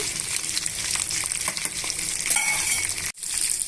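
Ingredients for a Karnataka-style chutney sizzle steadily in a hot pan with continuous close frying crackle and occasional stirring scrapes, alone with no talk and a momentary break near the end.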